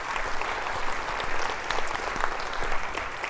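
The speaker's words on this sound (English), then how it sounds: "give you a round of applause for your incredible" Dense, steady audience applause fills a school convocation hall, a continuous wash of many hands clapping at once with no break.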